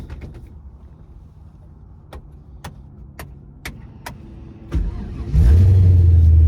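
A few sharp clicks over a low hum, then a Ford Mustang engine with an X-pipe exhaust and aftermarket mufflers cranks and catches, settling into a loud, deep exhaust rumble close by.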